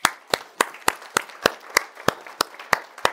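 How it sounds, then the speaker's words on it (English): Audience applause at a time-management talk, heard as crisp, evenly spaced claps in a fast steady rhythm, close and loud, with no voices over them. "Give him a round of applause"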